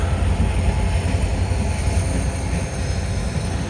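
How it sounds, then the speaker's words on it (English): CSX locomotive hauling an autorack train of empty cars back to the yard, a steady, loud, rumbling drone with no break across the whole stretch. "this is 6567 pulling the Springdale switcher autorack"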